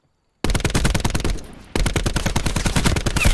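Auger DMR rifle in Call of Duty: Blackout firing rapidly, two loud sustained bursts of close shots in quick rhythm separated by a brief pause, after a moment of silence.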